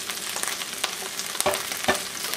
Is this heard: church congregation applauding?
no